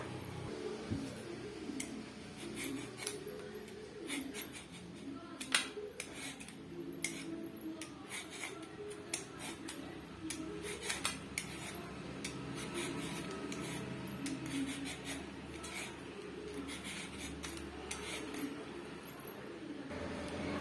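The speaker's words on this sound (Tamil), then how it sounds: "இதே போல இன்னொரு மாங்காவும் சீவி எடுத்துக்கலாம்" A raw mango is peeled with a knife or peeler, giving soft repeated scraping and rubbing strokes up close, steady over a faint background hum with no talking.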